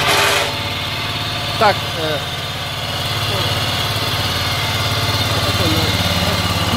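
A WEIMA DELUXE WM1000N-6 walk-behind tractor engine idles steadily and close by, a low continuous drone running throughout while someone speaks briefly over it.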